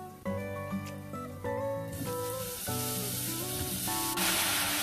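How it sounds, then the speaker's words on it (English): Steady, loud sizzling of garlic frying in a hot pan, with a few clinks and stirring sounds over the continuous hiss. "So it's been about 30 seconds, my garlic is sizzling."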